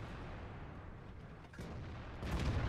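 Tank cannon fire in the video game World of Tanks, heard as two faint, distant booms in quick succession over a low background rumble.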